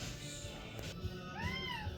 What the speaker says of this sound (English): Sorry about the cats crying.